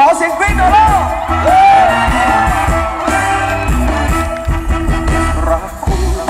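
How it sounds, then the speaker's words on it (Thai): Concert crowd screaming and cheering at a Thai pop show in 2007, loud and sustained whoops and yells over live band music with singing throughout. "ขอเสียงกรี๊ดหน่อยล่ะ"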